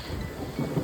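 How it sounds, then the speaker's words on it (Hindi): Rain falls steadily on a mountain road near Munsiyari, with a deep low rumble of thunder rolling under it, in a brief, fairly loud burst with no talk. "तो हमें बारिश का भी एडवेंचर मिल गया"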